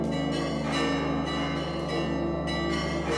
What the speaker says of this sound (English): The bells are signaling a changing of the guard of sorts.